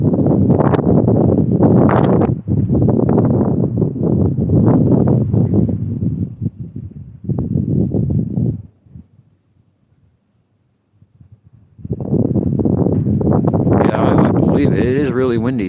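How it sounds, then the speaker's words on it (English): Strong wind buffets the microphone on a sidewalk in loud, rumbling bursts, dropping briefly to near quiet before gusting hard again. "It is really windy"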